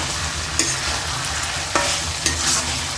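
Spiced beef being slow-fried and stirred in a pan, with a steady loud sizzle and three sharp spatula scrapes spaced through it, close up with no talking.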